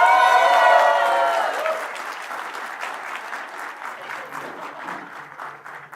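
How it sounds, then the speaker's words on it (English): Applause from a conference audience at JSConf India welcoming a speaker onto the stage, loud and dense at first, then thinning to scattered clapping while a voice starts speaking over it. "with a big round of applause, let's invite on stage Christy Jacob"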